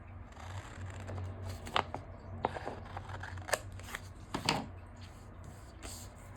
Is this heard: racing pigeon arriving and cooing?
no